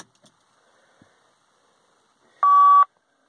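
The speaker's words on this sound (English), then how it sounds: "So we got a beep." A Motorola bag phone powering up in a truck gives a single clear electronic beep, short and steady, after a few faint clicks in otherwise quiet surroundings.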